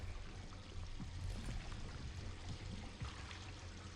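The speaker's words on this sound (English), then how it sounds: "that water noise is kind of scary" Running water in a horror video game pours and trickles in a constant close stream, with faint low knocks now and then and no talking.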